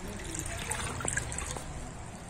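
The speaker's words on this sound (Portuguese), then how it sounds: "eu vou colocar aqui 500 ml de água" Water poured from a container to mix a homemade eggshell-flour plant fertilizer, a steady close trickle and splash with a few brief clinks.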